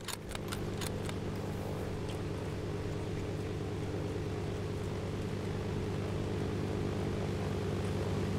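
An airplane in the video game DayZ Overpoch drones with a steady, even engine hum that holds at a constant, moderate level, preceded by a few quick clicks at the start.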